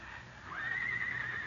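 A horse whinnies in a 1950s Western radio drama, a single clear, rising and drawn-out neigh heard close and alone.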